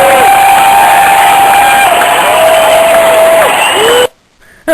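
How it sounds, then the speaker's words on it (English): Crowd-goes-wild sound effect from an applause button, a loud burst of cheering, whooping and clapping with a shrill whistle-like tone, held for about four seconds before cutting off abruptly. "This is one I also like to call the crowd goes wild."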